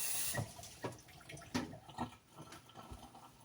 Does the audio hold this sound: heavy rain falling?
no